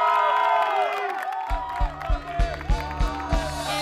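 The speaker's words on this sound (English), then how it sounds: "give her a big round of applause" An audience at a singing competition cheers and whoops for a contestant taking the stage, with crowd noise swelling, then a rhythmic pulse of heavy beats joining in under the ongoing cheering.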